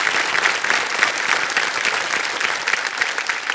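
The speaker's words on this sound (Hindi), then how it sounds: "ताली बज जाए उनके लिए" Studio audience on the quiz show Kaun Banega Crorepati claps for the winning voting unit, dense continuous applause that stays loud and even throughout with no voices over it.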